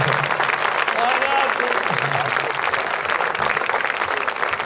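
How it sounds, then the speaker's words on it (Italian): An audience breaks into sustained, dense applause that holds steady and loud throughout, with faint voices mixed in. "Un applauso al discorso della luna"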